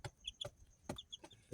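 A hen clucks softly in a few short, separate bursts, with faint high chick peeps in between, close by and quiet.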